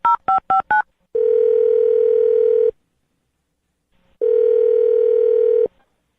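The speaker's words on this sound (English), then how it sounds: "I'm going to dial this phone right now" Four quick telephone keypad beeps, then two long ringback tones separated by a pause of silence.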